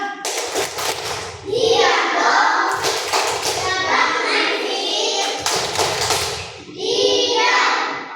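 Schoolchildren in a second-grade classroom perform the tepuk diam clapping chant, with loud bursts of rhythmic group claps and thumps mixed with children's chanting voices, pausing briefly between rounds.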